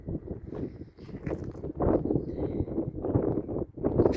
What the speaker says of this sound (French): alors vous allez supporter un petit peu le vent